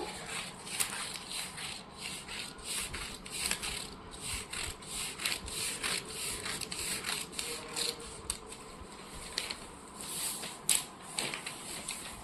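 Scissors cut paper at a basic tailoring lesson on half-slip cutting, giving a steady run of close rasping snips and rubbing strokes that repeat in a quick, even rhythm with no talking.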